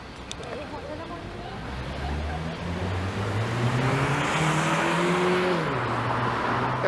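Traffic racing through an intersection on Yonge Street in midtown Toronto, with one car's engine revving and climbing in pitch as it speeds past, loud and close against general road noise.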